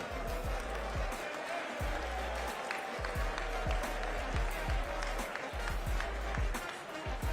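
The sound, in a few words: audience applause for state legislators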